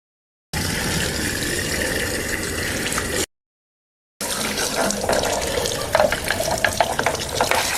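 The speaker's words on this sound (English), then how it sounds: "you're going to put your garden hose here and flush it out" Garden hose water gushes into a swimming pool fire department pump to flush it out, a steady rushing splash in two close bursts separated by a silent gap.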